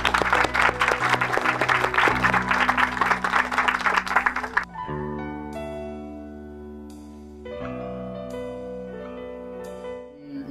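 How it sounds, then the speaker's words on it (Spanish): A community audience celebrating hard-won access to drinking water claps loudly for about five seconds, then the applause stops and sustained musical tones carry on alone. "un aplauso para ellos"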